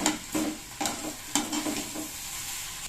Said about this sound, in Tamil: முட்டை வந்து நான் உடச்சி ஊற்றி நல்லா இந்த பதத்துக்கு வர மாதிரி நல்லா கிண்டிக்கிட்டே இருக்கணும்